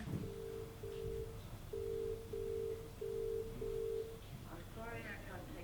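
Telephone ringback tone while calling mum, six evenly spaced electronic pulses in a steady rhythm, faint and filtered, with a short burst of voice at the end.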